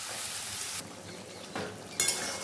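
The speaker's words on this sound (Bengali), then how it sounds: "এটা দিয়ে ভালো করে কষাতে থাকবো যতক্ষণ নিজে থেকে তেলটা না ছাড়ছে।" Soybean and potato fry with spices in oil for veg biryani, a steady close sizzle broken by a few stirring scrapes and a light clink near the end.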